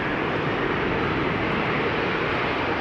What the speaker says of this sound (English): Embraer 190.